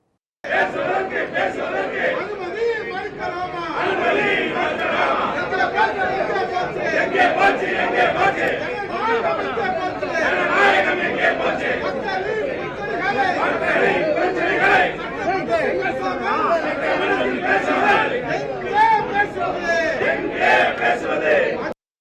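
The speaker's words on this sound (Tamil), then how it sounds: "அதிமுக உறுப்பினர்கள் அமளியில் ஈடுபட்டதால் பேரவையில் கூச்சல் குழப்பம் ஏற்பட்டது" Uproar in a state legislative assembly as AIADMK members protest, many voices shouting and chattering at once in a loud, continuous din throughout with no pause.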